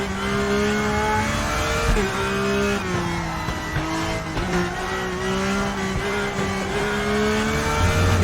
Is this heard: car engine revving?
yes